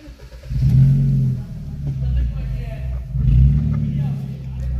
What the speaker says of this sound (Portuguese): Eu vou dar partida no carro com o ronco ligado